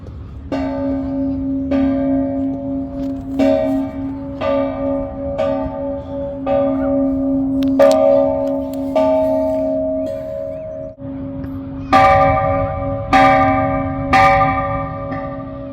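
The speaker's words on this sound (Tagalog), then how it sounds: "nagpapatunog ng kampana." A church bell rings repeatedly in a steady, unhurried rhythm, each strike loud and resonant with a long humming decay, later joined by a brighter second bell.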